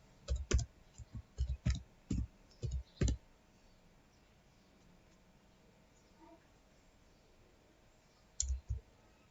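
Typing on a computer keyboard at a desktop command prompt: close, sharp clicks in quick clusters for a few seconds, then quiet, then another short burst of keystrokes near the end.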